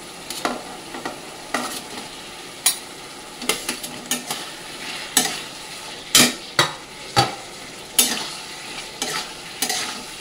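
Fried potatoes being stirred into a spice masala in a pan, with repeated spatula scrapes and clinks over a steady low sizzle, close and fairly loud, no talking.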